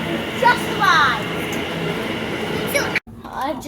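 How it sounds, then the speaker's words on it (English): A London Overground train pulls into the platform with a steady rumble and a brief high squeal of brakes, heard up close under people talking on the platform. "And our train home just arrived."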